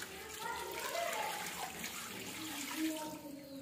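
About 1.5 litres of water poured onto chicken in a pot for yakhni gives a steady, fairly quiet gushing splash that swells slightly midway.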